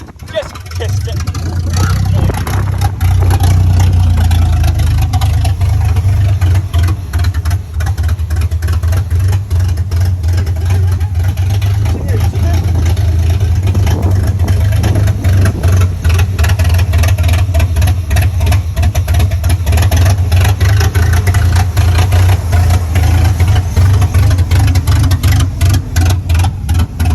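A truck engine with bad injectors runs on continuous throttle, a loud, close, rough low rumble with uneven pulsing that holds for the whole stretch.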